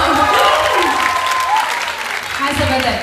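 An audience claps and cheers loudly and steadily at a live band performance in a theatre hall, while a voice and tonal sounds come through the dense crowd noise.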